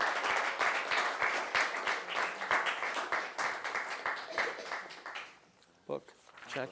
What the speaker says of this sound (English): let's give a warm round of applause for Giovanni Santalucia